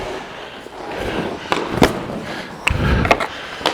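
Ice hockey shots on goal at a rink give sharp puck-on-stick cracks and thuds against the net and boards, several impacts in quick succession over a low, echoing arena hum.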